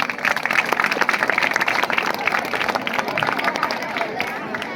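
A live audience bursts into sustained, vigorous applause, a dense wash of clapping hands with some crowd murmur mixed in, lasting several seconds at an even level.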